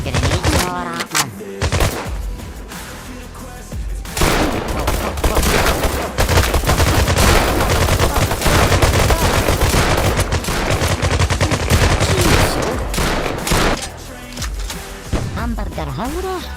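Rapid automatic gunfire and explosions in the shooter video game Bullet Rain, loud and dense for long stretches with short pauses, mixed with a voice and music.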